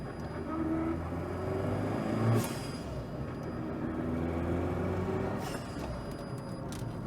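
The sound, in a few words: car engine idling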